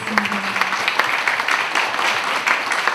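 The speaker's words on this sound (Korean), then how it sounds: "오늘 우리 예배를 받으신 하나님한테 우리 감사와 찬양의 박수를 드리겠습니다" A university-age church congregation at a Sunday worship service claps in a dense, continuous round of applause, close and steady for three seconds with no talking.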